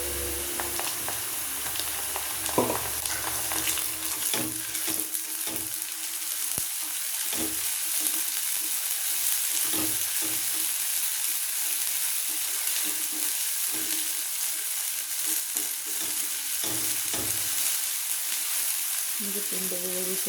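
Onion frying with ginger garlic paste in a pan for pepper chicken, a continuous loud sizzle with occasional stirring clatter throughout.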